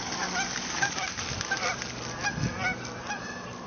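Geese honking repeatedly outdoors, a flock calling over and over at moderate distance with overlapping, irregular honks and a rustle of movement as they take off.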